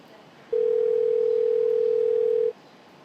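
A telephone dial tone sounds as one steady, clear, pure hum for about two seconds before cutting off, over a quiet background with no talking.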